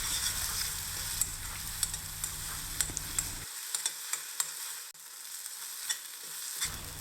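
Coriander thokku sautéing in oil in a pan on the stove, a steady sizzle with occasional spoon stirs and light clinks, close and alone without any talk.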